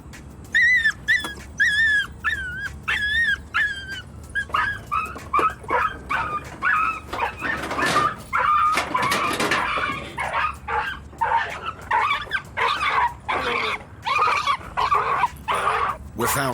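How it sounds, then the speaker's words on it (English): Poorly socialised dogs bark, yip and whimper in a rapid series of sharp, repeated calls, loud and close, with short gaps and overlapping yelps throughout; a person's voice is also heard intermittently. "The dogs have not been properly socialised,"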